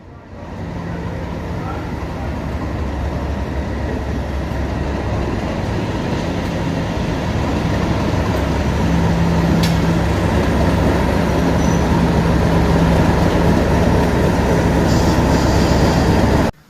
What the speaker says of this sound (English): You might be able to hear that train coming in.